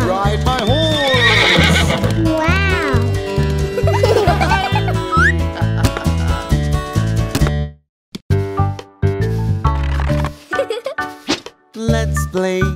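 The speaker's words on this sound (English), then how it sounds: "I am a horse. And I love to ride my horse." Cartoon-style horse neighs and whinnies with clip-clopping hooves over a bouncy children's nursery rhyme tune, loud and continuous with music throughout and a short break near the end.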